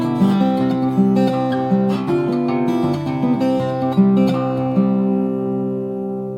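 Acoustic guitar playing measures 5 through 8 of a piece, a flowing fingerpicked line of overlapping ringing notes with steady plucked attacks, close and clear with no voices.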